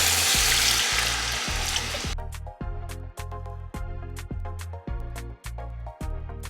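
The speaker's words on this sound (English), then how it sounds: "And I'm going to go ahead and add my water." Water pours into a hot pot of Nigerian fried rice, giving a loud burst of sizzling hiss that quickly dies down. A regular low rhythmic thumping follows, close and steady.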